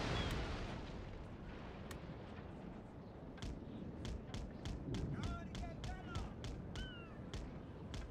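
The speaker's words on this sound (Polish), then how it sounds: "No i ale salwa idzie." Cannon salvos from warships in a naval battle in Total War: Napoleon, a run of sharp booming shots under game noise, with a fast volley of repeated blasts in the second half while players talk over it.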